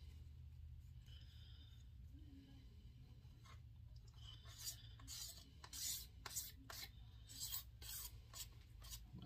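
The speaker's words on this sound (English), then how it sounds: "Scraping the pick guard, scraping binding." Someone scrapes at the pickguard and binding of a cheap dark brown Firefly Les Paul-style guitar, making a run of dry scratchy strokes that grow quicker and louder partway through, close up, with no one talking.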